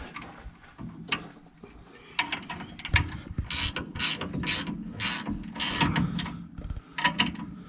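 A wrench ratchets in quick clicking bursts while tightening a new tie rod on a 1955 Chevy with a turbo 4.8L LS, close and loud, with metallic clanks between runs of clicks and no talking.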